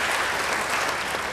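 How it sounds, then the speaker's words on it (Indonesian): Brief burst of congregation applause during a church service, dense clapping lasting just over a second. "Beri tepuk tangan yang baik bagi dia."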